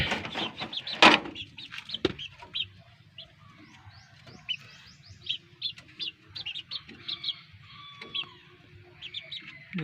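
Small chicks chirp in their cage, with repeated high, thin peeps near and clear, scattered across the whole stretch, and a louder fowl-like call near the start.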